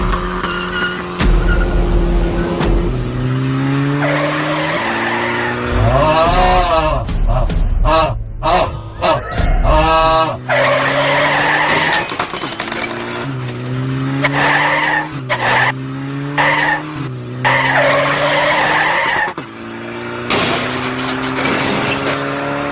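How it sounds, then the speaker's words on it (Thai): Car tires skid and squeal under sudden hard braking, with repeated loud screeching bursts and engine noise across the stretch, while voices talk over it. "เหยียบเบรกกระทันหัน"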